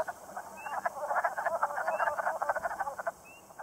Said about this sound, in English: I heard the first wood frog mating calls, which I likened to the sound of arguing gnomes.